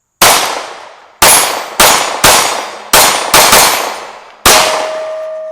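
A Sig P365 X-Macro Comp pistol fires seven sharp, loud shots in an uneven rhythm, each with a ringing clang off steel targets and a decaying tail, the last shot leaving a sustained metallic ring.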